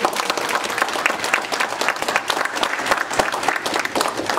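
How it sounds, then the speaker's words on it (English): Guests at an employer appreciation breakfast clap together in a warm, sustained round of applause, many hands at close range forming a dense, lively texture without speech. "Can we just all clap and celebrate you for your support?"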